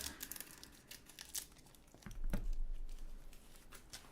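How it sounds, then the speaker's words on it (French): Close crinkling and rustling of plastic wrapping on a One Piece trading card pack, with a short crisp scissor snip and tearing as the packaging is cut open. "J'ouvre avec les ciseaux parce que l'ouverture facile,"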